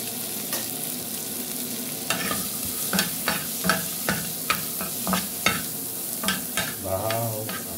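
Garlic frying and being stirred in a pan while eggs are cooked for breakfast: a steady sizzle broken by irregular, sharp metallic scrapes and taps of the utensil, with a brief bubbling burst near the end.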